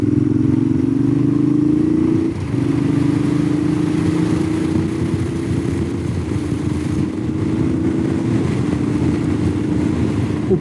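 A Suzuki DL650 V-Strom motorcycle rides along Norwegian road 450 toward Sirdal, its engine droning loud and steady from the rider's position, with a brief dip in pitch early on, under constant wind rush.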